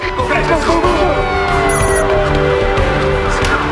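Wailing ambulance siren in a combat mission game scene, loud and continuous with sweeping tones layered over other dense noise.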